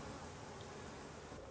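Female worker honey bees inside a hive on a bee farm, producing a very faint, steady low buzz that carries on without a break for a moment.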